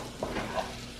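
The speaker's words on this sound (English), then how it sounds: "This garlic cooking." Garlic fries in a pan with a steady, soft sizzle and brief stirring scrapes, heard close up for about a second.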